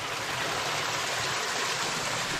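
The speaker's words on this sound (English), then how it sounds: "I don't think this creek ever dries up in the summer" A bush creek in hill country flows and splashes continuously, a dense, even rushing of water close by with no voices.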